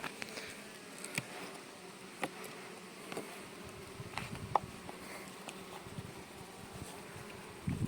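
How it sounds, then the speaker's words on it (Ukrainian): Honeybees buzzing in an opened hive during a winter colony check, a faint steady hum with occasional soft taps and knocks of handling the frames. "Дивимося, скільки тут бджоли."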